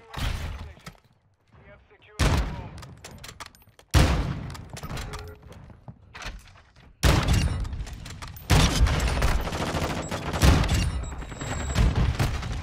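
Gunfire from a one-shot weapon in a first-person shooter video game, heard as loud broadband bursts and thuds in several separated clusters, with talk likely mixed in between shots.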